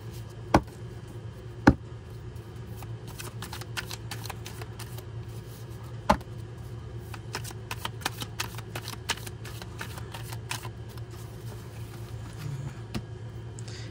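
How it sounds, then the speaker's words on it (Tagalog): Playing cards being shuffled and riffled, rapid crisp flutters and occasional sharp taps over a steady low background hum. "Balasahin po natin para alam po natin na nabalasa pong maigi ang ating mga"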